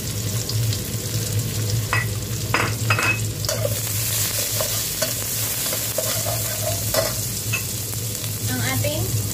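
Garlic sautés in a pan for pansit canton, a loud, steady sizzle broken by repeated scraping stirs and light clanks of a utensil against the pan, close up and with no voices.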